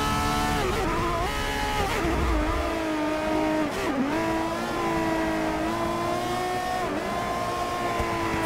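Ferrari FXX K in the Forza Motorsport 6 racing game screaming at high revs near top speed, a loud continuous engine whine with gliding pitch shifts as gears change, heard alone without talk.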